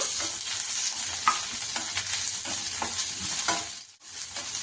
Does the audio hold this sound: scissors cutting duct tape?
no